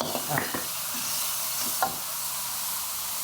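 Pork stir-frying in a pan with grandma's chili powder, a steady broadband sizzle with a few scraping stirs of the spatula early on and near the two-second mark, close and fairly loud, no talking.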